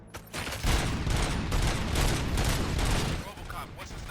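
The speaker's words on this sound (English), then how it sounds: "Gunshots? What's going on?" Rapid gunfire bursts in the RoboCop: Rogue City video game, dense and loud, with booming shots layered over game sound for about four seconds.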